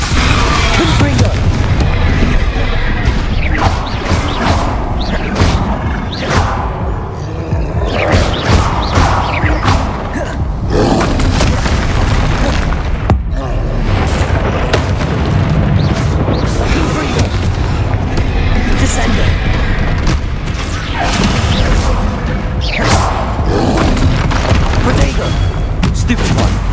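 Hogwarts Legacy combat with Confringo fire-blast spells: a dense, continuous barrage of booming impacts, crashes and thuds, loud and close, layered with shouted spell incantations and game effects throughout.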